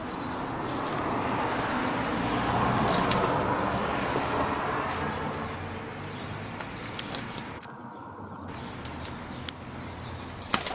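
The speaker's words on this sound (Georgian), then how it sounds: "ესე მტრედებს ინახავენ ლამაზად." Pigeons kept in a coop among city apartment blocks coo softly and repeatedly, with occasional wing flaps and faint rustling over a low urban background.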